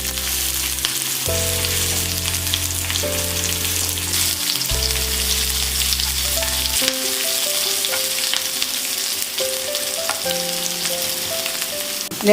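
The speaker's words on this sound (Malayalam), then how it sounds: "കടുക് പൊട്ടി തുടങ്ങുമ്പോൾ ഉള്ളിയും വേപ്പില ഇട്ട് കൊടുക്കുവാണ്" Onion and curry leaves frying in hot oil as mustard seeds splutter, with a steady close sizzle and sharp crackling pops throughout, with no talking.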